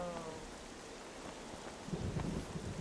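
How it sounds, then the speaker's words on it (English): A stormy sea in The Legend of Zelda: The Wind Waker: quiet, steady rain hiss with a low rolling rumble of thunder that swells toward the end. "we're in the eye of the storm now"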